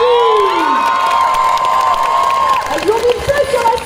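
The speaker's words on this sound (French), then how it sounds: "allez, on les applaudit." A crowd cheers and whoops at a cosplay parade at GeekFest in Bordeaux, with loud sustained shouting and high voices, then livelier bursts of cheering toward the end.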